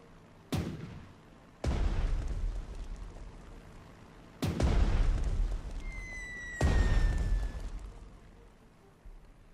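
Artillery strikes on an anti-aircraft gun in the Panzer Strategy war game: four heavy booming blasts spaced a couple of seconds apart, each with a rumbling decay, plus a brief whistling tone between the last two.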